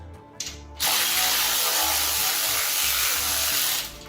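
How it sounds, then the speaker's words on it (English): A Milwaukee power ratchet snugs bolts on a 1981 Ford F150 bullnose truck: a short start, then a loud, steady mechanical whir running for about three seconds before stopping. "Let me snug these up right quick here. I love this Milwaukee"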